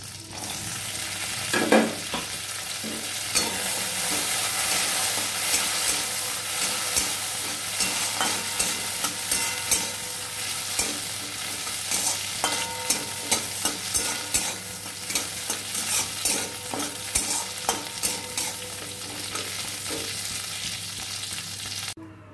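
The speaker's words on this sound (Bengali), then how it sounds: "আবার একটু তেল দিলাম, চিনি বাদামগুলো ভেজে নেব।" Peanuts fry in oil in a pan, giving a continuous loud sizzle overlaid with repeated scraping stirring strokes throughout, with no talking.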